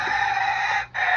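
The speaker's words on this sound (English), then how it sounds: "For my rooster cock-a-doodle-doing." A farm rooster crows in one long, loud, sustained call close to the microphone, breaking off briefly near the end before resuming.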